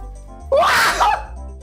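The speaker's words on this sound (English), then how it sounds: "I did warn you I'm gonna sneeze." One loud, close sneeze with a sharp rising onset, standing out over a low steady background hum.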